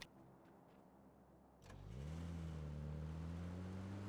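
A car engine in a video game cranks and catches at about 1.6 seconds, then settles into a steady, loud, even mid-pitched idle that holds to the end. A quiet background hum comes before it.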